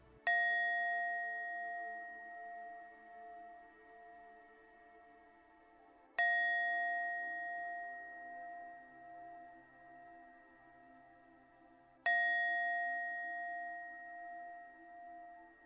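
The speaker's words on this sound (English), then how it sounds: "You'll hear 3 chimes starting now." Three clear, resonant chimes ring out about six seconds apart, each struck sharply and left to fade slowly in otherwise quiet surroundings.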